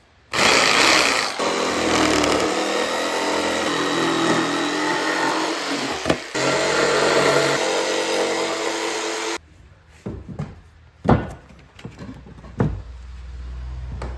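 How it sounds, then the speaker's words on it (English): Jigsaw cutting a circular section out of plywood for a skate quarter-pipe coping, a loud, steady buzzing saw run for about nine seconds that pauses briefly midway, then stops, followed by a few scattered knocks and handling clatter. "We are gonna grab the jigsaw and we're gonna cut out this circular section where the coping is gonna fit"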